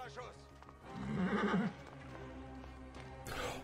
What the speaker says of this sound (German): Da steht das Pferd.